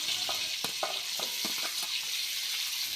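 Potatoes frying in oil in a wok, a steady sizzle broken by several quick scraping stirs of a spatula, close and fairly quiet.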